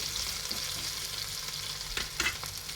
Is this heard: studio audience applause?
no